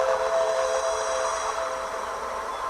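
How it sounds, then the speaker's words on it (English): Cartoon tugboats tooting their whistles, a sustained loud steady horn-like tone over a continuous mechanical rumble, heard alone without talk. "they couldn't help but toot their whistles"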